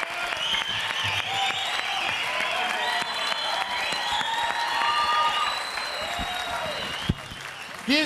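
A television studio audience at a Turkish entertainment show applauds in a steady, dense roar of clapping that holds for several seconds before a sharp clap near the end.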